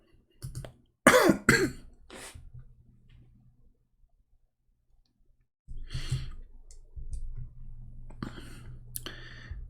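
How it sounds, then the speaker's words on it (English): A few close, sharp coughs near the start, then quiet breathing and soft clicks, followed by more rustling and throat sounds later. "I hope I'm not getting sick because I'm coughing."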